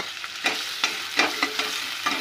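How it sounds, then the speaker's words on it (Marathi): Sliced onion and garlic hitting hot oil in a pan for a Malvani-style crab curry, a steady sizzling hiss broken by repeated stirring scrapes every half second or so, close and fairly loud, with no voices. "आता आपण कांदा टाकूया आणि लसूण, कांदा आणि लसूण फोडणीला"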